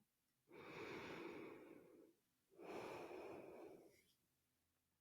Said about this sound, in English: So now, breathing again.